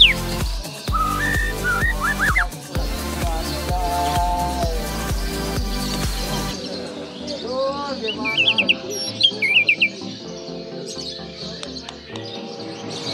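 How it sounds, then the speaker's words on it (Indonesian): An oriental magpie-robin sings varied whistled phrases and chirps at a bird singing contest at Situ Gintung, Ciputat Timur, Indonesia, loud and close at first, then thinner and more distant over background chatter and other birds. "Dan terakhir tentunya adalah murai batu."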